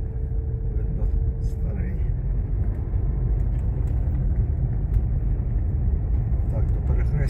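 A car drives along a town street in Vynohradiv and turns around, its engine and tyre rumble steady and loud from inside the cabin for the whole stretch, with no voices.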